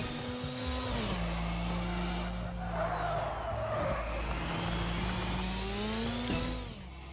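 A car's engine in the building video game Screwdrivers drones loudly and continuously as it drives, its pitch climbing, dipping and climbing again like gear changes, with a brief skidding rasp midway.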